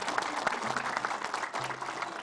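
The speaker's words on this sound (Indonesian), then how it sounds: "Sekali lagi tepuk tangan." A studio audience at an Islamic television talk show breaks into applause, a dense burst of clapping heard at moderate level, continuing steadily through the short stretch.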